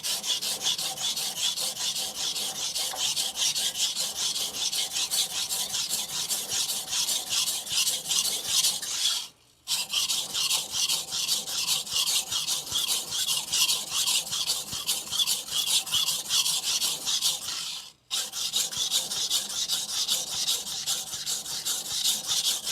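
Aogami 2 carbon steel bunka knife being thinned on a Shapton Glass 220 whetstone, rapid rhythmic scraping strokes close up, broken by two brief pauses.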